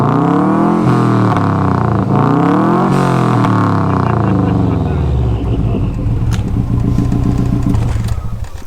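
Nissan R33 Skyline engine running loud and close, revving up and down in sweeping waves before settling into a lumpy rumbling idle, with a voice talking over it.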